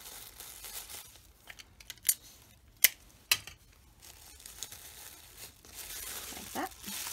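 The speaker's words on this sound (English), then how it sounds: "I'm just going to want to put this on top there and tape it down." Crinkling of gift wrapping paper as tape is pulled and pressed down while wrapping succulents, a few sharp tearing snaps from the tape amid soft rustling, close and quiet.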